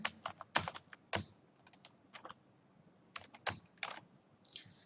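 Computer keyboard typing Python file-handling code, with quick clusters of clicking keystrokes separated by short pauses, close and fairly quiet.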